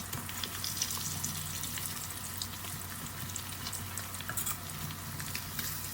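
Catfish pieces sizzle and fry steadily in hot oil in a home kitchen, a dense continuous crackle with a low bubbling hum underneath, close and moderately loud with no talking.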